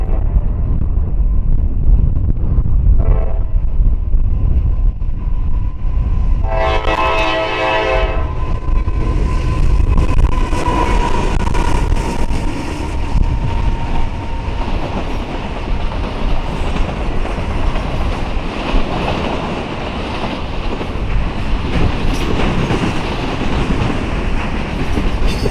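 A CSX freight train led by an unrebuilt AC-44 locomotive rumbles past continuously with a steady heavy roar, a brief horn-like tonal blast early on, and wind buffeting the microphone throughout.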